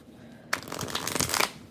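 Hermetic Tarot cards being shuffled in a quick, dense riffle that starts abruptly after a brief quiet moment and continues with close, crisp flutters of card stock.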